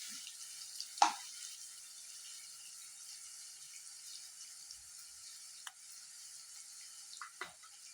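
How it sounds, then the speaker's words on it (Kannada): Finely chopped onions frying in a pan for mushroom masala give a soft, steady sizzling hiss, faint and continuous, with a few brief clicks of stirring at scattered moments. "ಚೆನ್ನಾಗಿ ಫ್ರೈ ಮಾಡ್ಕೊಳ್ಳಿ ಈರುಳ್ಳಿನ"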